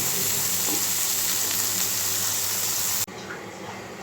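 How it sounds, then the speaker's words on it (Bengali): Small mola fish fry in oil over low heat for a tomato chorchori, giving a steady close sizzle that softens suddenly near the end. "তো চুলার আঁচটা কমিয়ে তারপর হালকা হালকা করে ভেজে নেব।"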